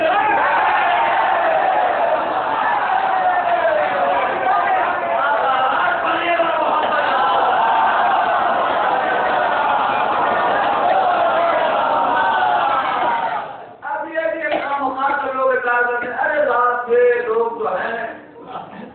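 At a religious gathering, a large crowd roars the takbir chant Allahu Akbar in a loud, sustained unison response; it fades, then a voice carries on speaking over the gathering.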